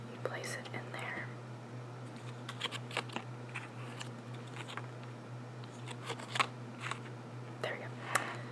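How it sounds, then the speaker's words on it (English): A scented car air-freshener pouch is unwrapped from its plastic packaging in crisp, close crinkles and rustles under soft, intimate whispering. "So you take it, you unwrap it, you place it in there."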